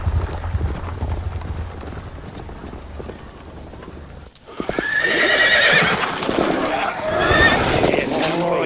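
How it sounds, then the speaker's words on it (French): A horse whinnies loudly and close by, with clip-clopping hooves, after a stretch of low rumbling background sound. "Oh, c'est mon cheval."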